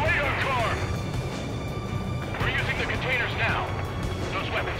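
Anti-aircraft guns firing in the video game Ace Combat 7, a low, rumbling barrage of bursts running steadily underneath radio chatter from the pilots.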